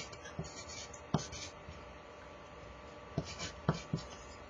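Pencil or pen scratching out a formula on paper during a math review of volume and area: soft, faint strokes with a few sharper taps, close by and quiet, with no talk.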